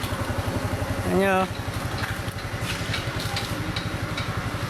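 A motorcycle engine idles steadily nearby with an even low pulsing throb, while someone talks over it.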